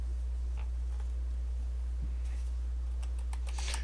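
Someone types quietly on a computer keyboard, sparse soft key clicks that turn to a quick cluster near the end, over a steady low electrical hum.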